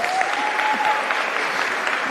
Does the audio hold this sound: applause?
yes